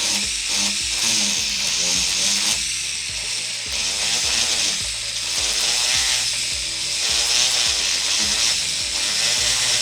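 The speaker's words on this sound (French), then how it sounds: "je vais venir les émeriser et les polir avant de les mettre dans cet anneau" A rotary power tool whines steadily as it sands and polishes 925 silver rings for multi-ring earrings, a high buzzing that stays loud and constant.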